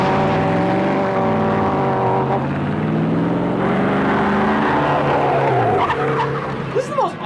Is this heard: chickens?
no